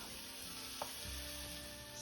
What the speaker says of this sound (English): I'm going to be cooking and caramelizing these onions